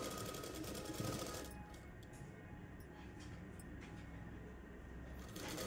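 A sewing machine stitches an umbrella-style dress, its needle running in a fast, steady mechanical chatter that briefly eases and then resumes, loud and close with no talk.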